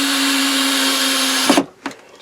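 A power drill drives screws on an allotment, a steady loud whine running for about a second and a half before cutting off, followed by a couple of short clicks and knocks.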